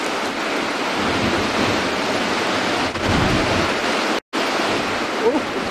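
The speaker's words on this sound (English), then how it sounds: "I don't think it's going to come out now, especially because of the strong wind that's blowing." Steady strong wind rushes past in a broad, constant roar during a night drive in the African bush, with one brief cutout partway through.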